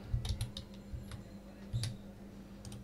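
Someone types a command into AutoCAD 2007 on a computer keyboard, producing a few sparse, close key clicks in two short bursts over a steady low hum.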